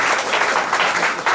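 An audience at an inauguration ceremony claps in a dense, steady burst of applause, loud and close, with no talk over it.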